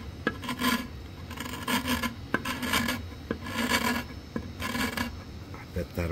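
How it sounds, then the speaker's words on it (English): Old finish being scraped off an antique wooden desk: rough, rasping strokes repeat in a steady rhythm of about half a dozen passes, close and fairly loud, with no talking. "trying to get the old finish off, I realized I can just scrape some of this off."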